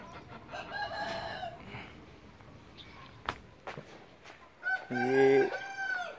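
Aseel breeding chickens on a rooftop cluck intermittently, then a rooster lets out a loud, close crow near the end, with scattered faint background noises in between.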